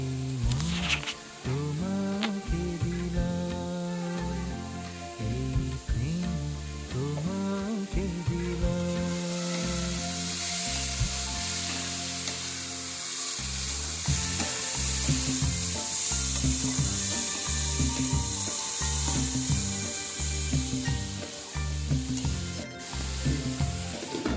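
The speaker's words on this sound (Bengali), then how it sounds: "তো এরকম সিমে আস্তে আস্তে ঢেকেই ভাজবো।" Bitter gourd and potato pieces frying covered over low heat with salt and turmeric, a steady muted sizzle running throughout, with some rhythmic low rumbling and clatter beneath and no talk.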